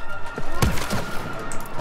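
Gunfire in a video game shooting match, a short volley of sharp, loud shots with thuds and crashing impacts, packed into under two seconds.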